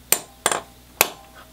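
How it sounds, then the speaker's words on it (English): Three sharp metallic hammer strikes on a centre punch marking a hole for drilling, spaced unevenly and close up, each ringing briefly before fading, with no talk. "So I'm just going to put a centre punch on that hole now,"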